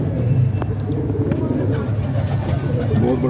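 Pigeons coo softly and repeatedly close by on a rooftop pigeon loft, a low rolling murmur that continues under a man's conversation and faint background noise.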